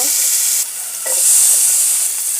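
Mola fish heads hit hot oil with a loud, close, bright sizzle that dips briefly, then surges back into a steady hiss.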